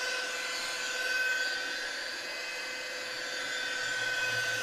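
A buffer polishes car paint on a Fiero GT Fastback to remove swirl marks, giving a steady, even high-pitched whir that holds constant without pauses.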